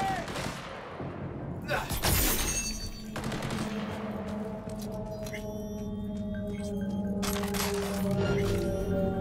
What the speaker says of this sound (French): Voilà, fusillade arrêtée.